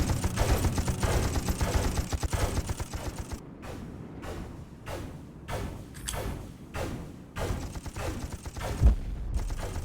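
Rapid gunfire in the shooter video game Executive Assault, dense bursts of shots for the first few seconds, then separate loud reports every second or so over a mechanical game background.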